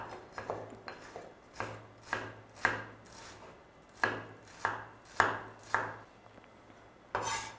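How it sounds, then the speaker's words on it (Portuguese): A knife finely dicing an onion on a cutting board, about a dozen crisp chops in uneven bursts, close and clear, with no talking. "vamos cortar a cebola o menor que a gente puder, né?"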